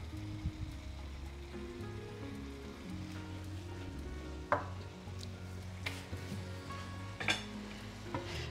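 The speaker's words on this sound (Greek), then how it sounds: "Πάλι το ανακατεύω" Homemade vegetable broth being stirred in a pot after salt is added, a soft continuous bubbling sizzle with a few sharp clinks of the spoon against the pot, with no talking.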